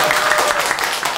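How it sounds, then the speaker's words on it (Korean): Audience applause at a live concert in a cafe, a dense, steady wash of clapping from a crowd, loud and continuous. "박수 한번 주세요."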